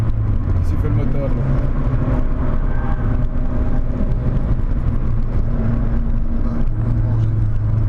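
A Corrado 1.8 16v engine drones steadily from inside the car on the Nürburgring, a loud, low continuous hum with people talking over it.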